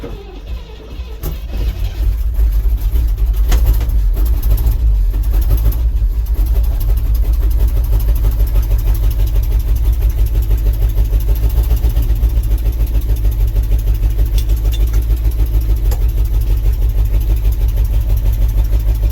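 A 1967 International Harvester 4x4 truck engine, left sitting outside in winter, cold-starts on a Napa Legend battery, then settles into a loud, steady, rumbling idle that runs close and continuous with no talk.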